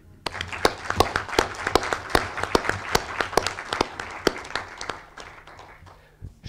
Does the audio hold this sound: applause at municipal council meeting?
yes